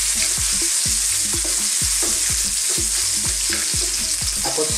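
Garlic and onion fry in a pan for sweet and sour shrimp, a loud continuous sizzle with a steady rhythm of utensil scrapes and stirring knocks roughly every half second.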